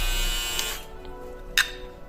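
A VGR V338 electric foil shaver runs with a steady high buzz, with a couple of brief clicks and a sharper tick partway through.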